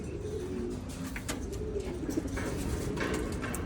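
Pigeons coo softly and continuously in a loft where young birds are kept, with low repeated cooing under faint rustling and scattered small chirps.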